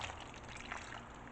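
Blended marinade poured over carrots makes a faint, steady liquid trickle lasting just over a second, with no talking.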